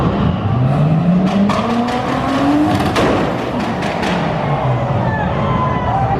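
Mazda Miata cars drifting at a rooftop car meet in LA, engines revving and climbing in pitch with bursts of tire squeal, loud and close throughout.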